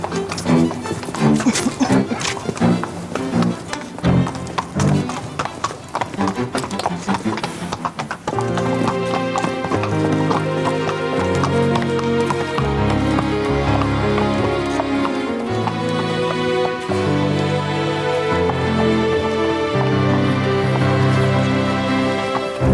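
A horse moves through a riding lesson with a rhythmic clip-clop of hooves, steady and fairly close, accompanied by music throughout.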